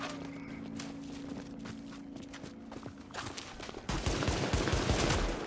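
Gunfire in the video game The Division, with scattered shots and clatter, then a louder, denser burst of rapid firing near the end.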